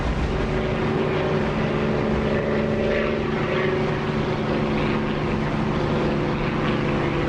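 Steady, loud drone of propeller and jet aircraft engines, two Chinook helicopters and an F-4 Phantom, in the DCS flight simulator game, a continuous hum with tonal lines running unbroken throughout.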